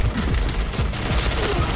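Rapid automatic K2 rifle fire from the Point Blank shooter game rattles in a dense, steady burst of closely spaced shots throughout.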